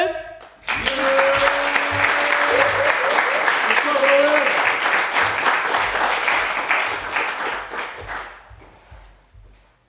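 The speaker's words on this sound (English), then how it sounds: "Can you please give a big round of applause for Owen?" Loud, sustained applause and clapping from an audience at a poetry performance, rising abruptly and holding steady for several seconds before tapering off, with a few voices mixed in.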